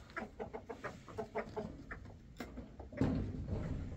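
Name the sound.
Indian roosters crowing and clucking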